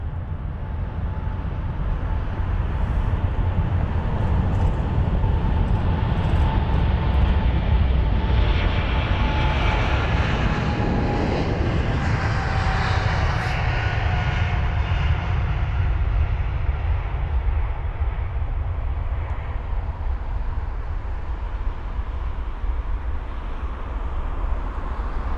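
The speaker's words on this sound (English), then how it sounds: "Off goes that American Airlines aircraft." A nine-year-old American Airlines Boeing 777-300ER jet takes off at London Heathrow, a loud, steady roar filling the whole stretch, with a thin engine whine that slowly slides downward midway.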